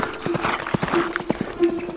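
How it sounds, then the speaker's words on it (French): A gray horse galloping, its hooves clip-clopping in a quick, uneven rhythm of close, crisp knocks under a steady tone, as in a children's song. "Fais le cheval gris qui galope la nuit"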